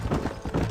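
Galloping horse hooves from the Red Dead Redemption Wild West video game, a quick, close, rhythmic clip-clop heard alone for a moment.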